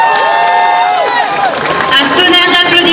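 A crowd applauds and cheers steadily at a farewell evening for a theme park attraction's permanent closure, a loud, sustained wash of clapping and shouts with vocal sounds mixed in.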